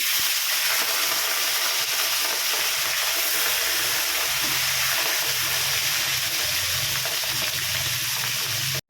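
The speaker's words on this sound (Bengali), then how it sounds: "এবার মাছগুলোকে ভেজে নিই" Fish fries in hot oil, producing a loud, steady hissing sizzle that runs unbroken and close for nearly nine seconds.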